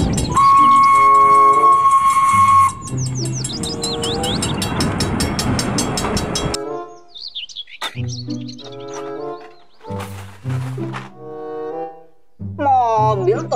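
A toy Thomas train's high whistle tones and chugging sounds, followed by bursts of electronic melody and chirpy effects, loud and close.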